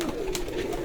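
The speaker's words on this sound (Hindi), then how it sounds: "ਇਹ ਟੈਡੀ ਕਬੂਤਰ ਹੈ।" A Teddy pigeon coos on a rooftop loft, one close, steady low call held for under a second, with no speech over it.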